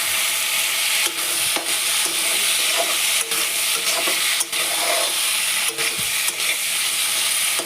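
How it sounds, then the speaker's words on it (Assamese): Boiled potatoes fry in a pan with spices and tomatoes, a loud continuous sizzle broken by repeated scraping stirs, with no speech. "আলুখিনি অলপ ভাজি আছোঁ"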